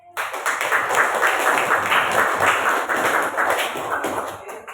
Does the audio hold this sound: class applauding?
yes